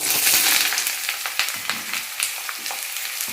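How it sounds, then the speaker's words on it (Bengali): Cut potatoes frying in hot oil in a wok, a loud steady sizzle with crackling pops throughout, no voices. "তেল গরম, আর আলুগুলো ভাজা করবো।"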